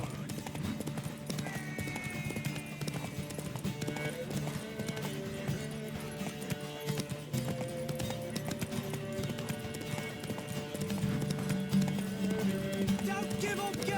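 Horse hooves clip-clop steadily at a gallop in The Witcher 3 video game during a race, mixed with game music and ambient sound, with voices talking over it.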